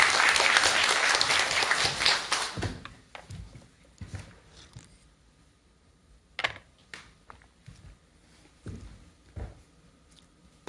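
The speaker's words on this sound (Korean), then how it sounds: "박수 한번 쳐요" Loud audience applause in a Korean Buddhist lecture hall fills the first two and a half seconds, then fades into scattered faint clicks and small bumps.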